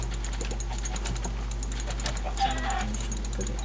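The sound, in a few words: chickens being hit in Minecraft, from a video game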